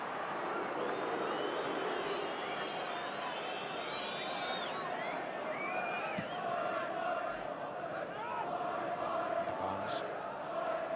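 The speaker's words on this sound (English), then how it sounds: "Gets a special cheer." Large football crowd at Old Trafford during Manchester United versus Watford, a sustained, loud wall of cheering and whooping that fills the stadium without a break, with commentary voices faintly beneath.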